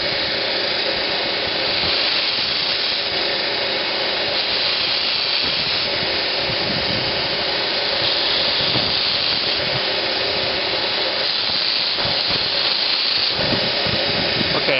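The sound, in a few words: belt sander grinding burrs off a metal part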